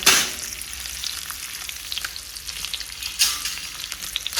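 Eggs sizzle and crackle steadily in a hot pan of oil for an egg curry, with a continuous close hiss and brief louder scraping bursts near the start and again partway through.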